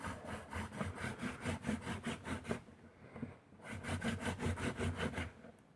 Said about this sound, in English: Usually when burning in your hearthboard, you just want to drill into it until you see smoke.